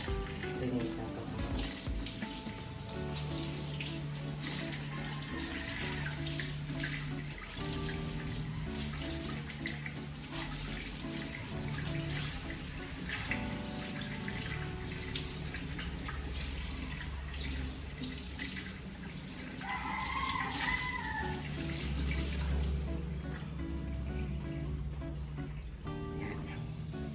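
Steady water runs from a tap during window cleaning at home, a continuous close wash with clattering and rustling handling sounds, and a brief voice partway through.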